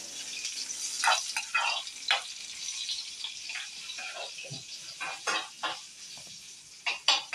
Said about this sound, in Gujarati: મરચાંનો વઘાર આપે છે માં અત્યારે, રાઈ ને હળદર નાખી, પાછા મરચાં નાખી દીધું આપણે